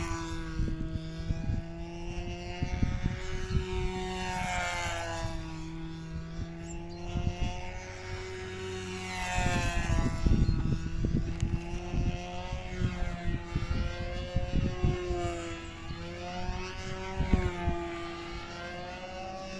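A Canadair CL water-bombing aircraft flies its display program with a heavy propeller drone, and its pitch sweeps up and down as it makes repeated passes, loud and sustained and with no talk.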